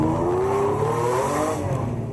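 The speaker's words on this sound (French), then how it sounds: "sa Ferrari Testarossa ne sait pas être discrète" Ferrari Testarossa sports car creeping at walking pace along campsite lanes, its engine a steady, loud, close rumble with a gently rising tone throughout, no voices.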